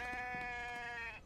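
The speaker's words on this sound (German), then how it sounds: "Ein Schaf." A sheep in the survival video game The Infected gives a single short, wavering bleat at moderate volume, heard on its own.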